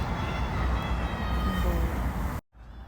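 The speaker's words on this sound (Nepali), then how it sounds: "ड्राइभर बिनाको ट्रेन पनि गयो है" A steady low rumble and rushing roar of a passing driverless train, fairly close, cutting abruptly to near silence just before the end.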